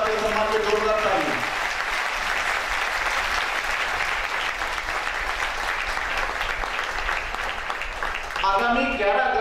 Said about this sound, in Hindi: एक बार डॉक्टर साहब के सम्मान में जोरदार ताली